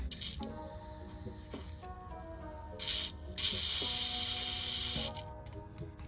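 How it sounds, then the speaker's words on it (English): Several bursts of WD-40 aerosol spray hiss from a can onto a vehicle exhaust hanger, short ones followed by a longer steady spray, close up over faint rubbing and background noise. "I will go ahead and spray some WD-40."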